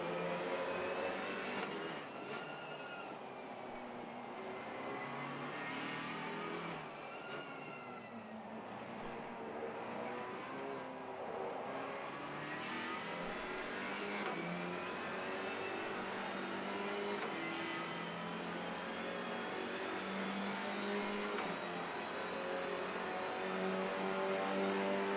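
A GT4 race car running laps at Barcelona during a three-hour endurance race, its engine droning steadily with rising and falling pitch as it shifts through gears, continuous and moderately loud with no talking.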